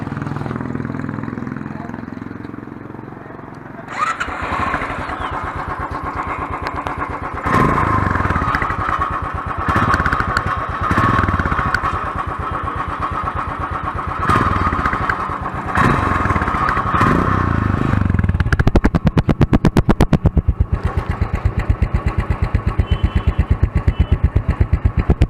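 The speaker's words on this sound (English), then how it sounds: "Listen that exhaust sound of this bike." A Royal Enfield Continental GT motorcycle engine idles with a thumping exhaust beat, then revs up repeatedly in bursts, loud and close, with no one speaking.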